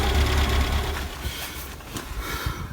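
A Citroën BX petrol engine idles with a steady low throb, then is switched off and the rumble fades, leaving faint mechanical ticking.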